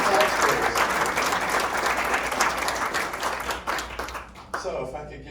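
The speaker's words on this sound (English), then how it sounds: "So if we could have another round of applause" Applause from the audience at a public meeting on a town open space levy, a steady, dense round of clapping that thins and trails off near the end.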